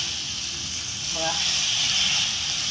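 Hot oil hisses steadily as a tadka of Byadgi dried red chillies and Kashmiri red chilli powder is tempered for palak paneer, a broad sizzle that swells slightly midway and carries on without a pause.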